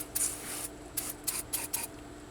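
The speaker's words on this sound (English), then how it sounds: "I'm gonna put some carb cleaner on that." Carb cleaner is sprayed onto a seized part of a 1956 International S132 pickup in several short, hissing bursts, one longer burst followed by four quick ones, close and fairly quiet.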